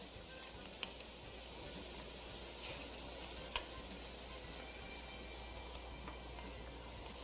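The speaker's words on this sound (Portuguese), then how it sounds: "a gente já deu uma refogada na cebola, vamos colocar então a proteína de soja" Soy protein hits a pan of sautéed onion and sizzles steadily, a dense, bright frying hiss with a few faint clinks of stirring.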